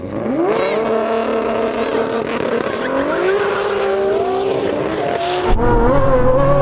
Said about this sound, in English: we're going to start off with the drag race, and to make it super interesting, we're not going to warm my tyres up first.